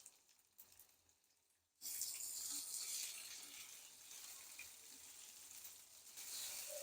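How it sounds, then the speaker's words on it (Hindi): Okra frying on a medium flame, a steady broad sizzle that starts abruptly after a quiet moment and holds close and even throughout, no voices. "दरमियानी आंच पे फ्राई करेंगे।"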